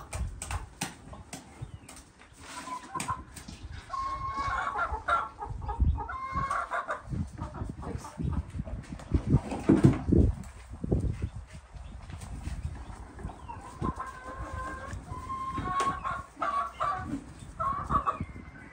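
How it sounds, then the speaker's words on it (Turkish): Hens clucking and squabbling in a coop, one pecking at the others, with busy overlapping clucks and scuffling at close range and occasional faint crowing in the background. "Tavukları dövüyor."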